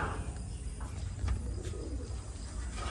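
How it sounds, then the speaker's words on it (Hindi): Pigeons coo softly after rain, low rounded calls repeating over a faint outdoor hiss, with a light flutter partway through as birds take off. "कबूतर नाच की वजह से कबूतर उड़े।"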